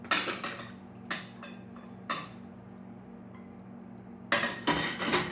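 Cooked ramen noodles tipped into a bowl for a hoisin vegetable dish, heard as a few separate clinks and clatters of dishware over a steady low kitchen hum, with a busier cluster of knocks near the end.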